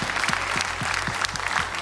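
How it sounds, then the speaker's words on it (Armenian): Warm audience applause at a gala show of a televised singing contest, steady, dense clapping filling the whole moment without any voices over it. "ծափահարենք նրան մի հատ ջերմ"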